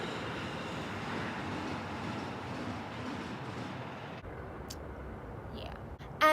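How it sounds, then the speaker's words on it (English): A train rolls past with a steady rumble and rattle of wheels and cars, fairly distant and sustained, then cuts off abruptly near the end. "Train."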